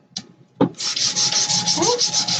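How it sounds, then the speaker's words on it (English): Sandpaper rubbing along the edges of a piece of wood for a handmade wooden sign, a couple of sharp taps and then steady, rhythmic back-and-forth scratchy strokes, close and clear with no talking. "I'm going to take my sandpaper and I'm going to just sand down the edges."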